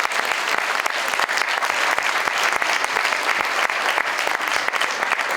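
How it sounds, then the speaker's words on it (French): Sustained applause from an audience at a town hall New Year's greetings ceremony, welcoming a delegation of young municipal councillors; dense, steady clapping close by throughout. "Alors on peut les applaudir"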